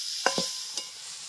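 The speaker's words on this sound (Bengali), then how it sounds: "আমি খেজুরের গুড়টা নিয়েছি। দিয়ে এটাকে খুব ভালোভাবে নেড়ে আমি একটা পুর রেডি করে নেব।" Spoon stirs date palm jaggery filling in a pan, giving two or three quick, close scraping strokes over a quiet background.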